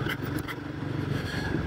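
A Royal Enfield Guerrilla 450 motorcycle rolls over a speed bump at about 40 km/h, a brief thump and scrape over a steady engine drone, heard close up.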